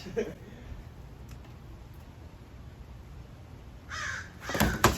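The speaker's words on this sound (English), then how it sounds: "That's the local crow" A local crow caws close by, with a few harsh calls near the end over a steady outdoor background hiss.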